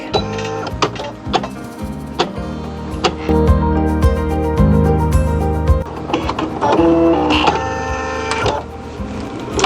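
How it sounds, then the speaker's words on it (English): An embroidery machine stitches the outline of a felt egg, a loud, near mechanical whir with rapid, rhythmic needle clatter that speeds up and pauses in bursts, with tonal motor hums shifting pitch between runs. "I'm going to go ahead and stitch out the outline of the egg."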